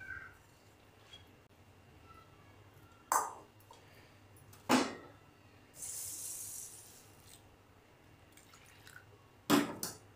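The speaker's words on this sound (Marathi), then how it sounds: "हे 2 पाण्याने मी धुवून घेते." Rice and soaked mung dal are rinsed in water in a home kitchen, giving faint sloshing and a few sharp clinks and splashes over a quiet, steady background.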